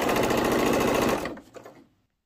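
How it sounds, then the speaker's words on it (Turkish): Sewing machine stitching a waistband: a rapid, even mechanical whirr of needle strokes runs close and loud for about a second, then slows and stops into silence. "Bu şekilde çektirerek üstten bir dikiş, alttan bir dikiş yapacağım."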